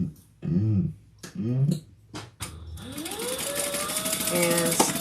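A sewing machine stitches leather pieces together, a rapid, even mechanical whirring that starts after a few spoken words and runs steadily and close for several seconds.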